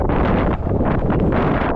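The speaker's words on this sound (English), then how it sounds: "It's very windy" Loud, constant wind buffeting a microphone on the Appalachian Trail, a rough low rumble with gusty fluctuations and no talking.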